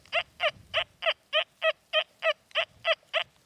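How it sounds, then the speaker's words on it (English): An XP Deus II metal detector sounds its iron tone over a buried target: about a dozen short, buzzy grunts in an even rhythm, close and clear against a quiet background. "But can you hear that iron tone, that buzz?"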